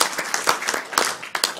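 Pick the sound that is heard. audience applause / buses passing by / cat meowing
audience applause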